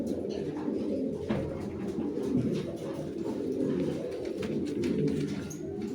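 Lahori pigeons in a farm loft, cooing steadily in low, rolling murmurs that overlap continuously, close by with faint background noise.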